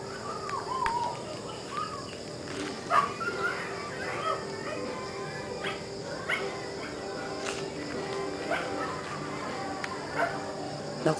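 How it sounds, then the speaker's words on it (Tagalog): A stray dog barks and yips at a distance on a rural street, under people talking, with bird calls in the background. "Naku, may dalang ligaw na aso."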